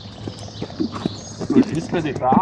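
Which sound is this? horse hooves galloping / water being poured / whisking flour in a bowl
horse hooves galloping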